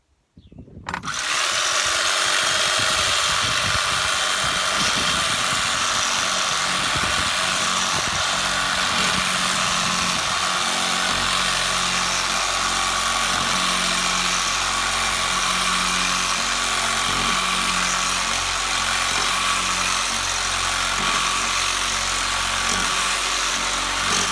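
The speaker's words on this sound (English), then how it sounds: "So I'm going to try and trim that up with an electric carving knife." An electric carving knife with a blunt blade trims new seat foam for a narrowboat, a loud, steady motor buzz running continuously for about twenty seconds after a brief start, with no talking.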